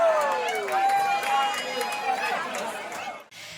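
A packed crowd inside the Irish pub Dirty Nellies on a St. Patrick's Day morning, with dense, lively chatter and overlapping voices that briefly dip near the end.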